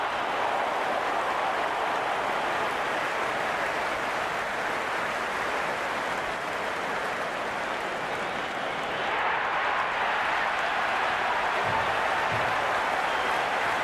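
Dense, sustained crowd roar and applause from cricket stadium spectators in a video game after a boundary shot, a steady wash of cheering that swells slightly toward the end.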